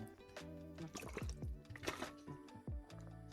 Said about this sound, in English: Can you hear the sound of the water going down when I drink?